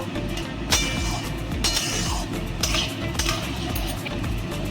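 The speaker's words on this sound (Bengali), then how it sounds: "এই দেখুন এবার আমি এই ডিমের কিউবগুলো দিয়ে দিচ্ছি সুন্দর করে এর সঙ্গে মিশিয়ে নেব" Egg cubes being added to a pan of egg chilli and mixed in, with repeated metal spoon scrapes and clinks against the pan over a low, steady background rumble.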